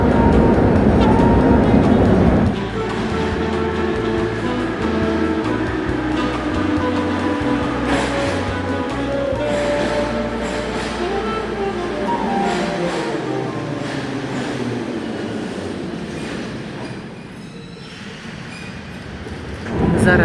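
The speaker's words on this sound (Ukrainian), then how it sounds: "Я їду на метрі." Kyiv metro train in motion, a loud steady rumble with rhythmic low wheel thumps and screeching rising tones as it runs through the tunnel, fading slightly near the end.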